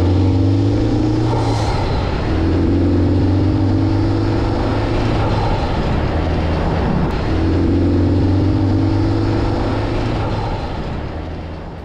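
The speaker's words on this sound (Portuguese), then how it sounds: "colocar um pouco do som do carro para vocês ouvirem" Honda Civic Type R with a valve-opening exhaust, its engine droning loud and close, rising in repeated revving sweeps that climb, drop back and climb again before fading slightly at the end.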